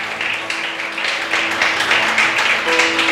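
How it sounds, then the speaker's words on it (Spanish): A church congregation claps loudly for the Lord in continuous, dense applause, with a faint sustained musical tone underneath. "Dale un fuerte aplauso al Señor"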